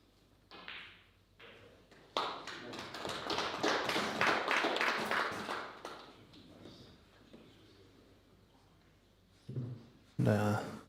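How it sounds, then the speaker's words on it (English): A short burst of applause in a snooker club room, with scattered claps building into a few seconds of clapping, then fading. A voice talks around it. "some claps in the room there"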